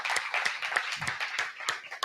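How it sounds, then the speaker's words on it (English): A small audience at a live talk event claps in loose, uneven bursts, individual hand claps standing out sharply against a quiet room, fairly close and moderately loud. "clap it up for yourselves for being here"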